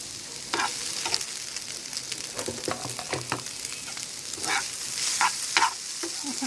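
Vegetable noodles with masala stirred in hot oil in a pan: an uneven run of spatula scrapes and clinks over a steady frying sizzle, close by, without speech.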